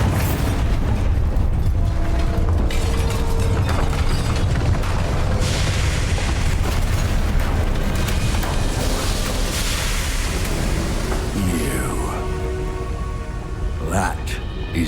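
Bombarda spell explosions in Hogwarts Legacy, a continuous barrage of loud booms and crackling blasts with rumbling debris, dense and unbroken throughout, easing slightly near the end.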